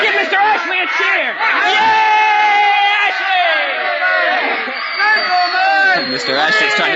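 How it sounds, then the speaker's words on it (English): In an old-time radio drama, a crowd cheers and whoops together in a loud, sustained wave of overlapping yells that rises and falls but never stops. "Let's give Mr. Ashley a cheer!"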